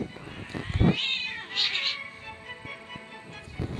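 A cat meows in a Roblox game, a drawn-out whining call near the middle followed by a shorter mew, clear and close over faint background clicks.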